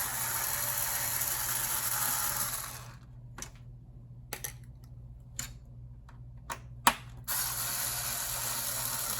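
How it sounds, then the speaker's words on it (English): A Magnavox CDB650 CD player's faulty disc mechanism tries to eject, giving several sharp ratcheting clicks and gear ticks in a quiet gap between steadier motor whirring, close and fairly soft. "First thing we noticed was the mechanism would not eject."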